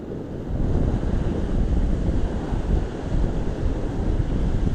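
Sea waves washing on the shore at a fishing spot on a calm sea, a continuous loud rushing wash with wind buffeting the microphone.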